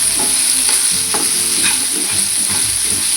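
Salted onions frying in a pan over a low flame, with a continuous soft sizzle and occasional scrapes and stirs of a spoon, close and steady throughout.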